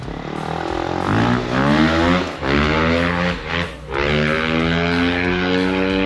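A new motorbike revs steadily on a farm, its engine droning loud and close with a continuous buzzing tone that rises and dips through the ride.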